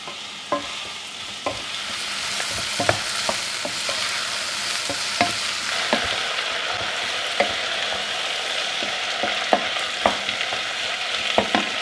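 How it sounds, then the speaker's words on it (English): Onions fry in a pan for a currywurst sauce, a steady sizzle with frequent sharp clicks and scrapes of stirring, close and continuous, with no talking. "the onions. And I let this fry for a little bit."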